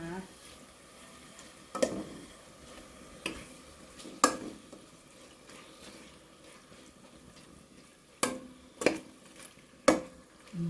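Pork stir-fried in a pan for Thai green curry, with the spatula scraping and clacking in sharp, irregular strokes over a low, steady sizzle.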